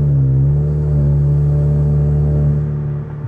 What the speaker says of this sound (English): We're gonna shift in between gears.